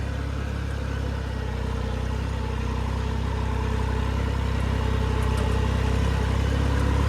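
A parked Swaraj turbocharged tractor idles with a steady low diesel rumble, loud and close, running evenly throughout without voices.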